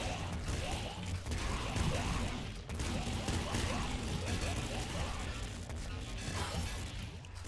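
Dense gunfire from shotgun shoulders in the video game Nuclear Throne, with rapid overlapping shots, crashes and whooshes forming a loud, continuous barrage.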